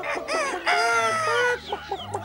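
Cartoon Smurf characters imitate hens with their voices, letting out loud, close clucks and a drawn-out crow in a rapid, overlapping burst.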